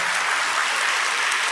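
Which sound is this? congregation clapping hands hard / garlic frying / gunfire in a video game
congregation clapping hands hard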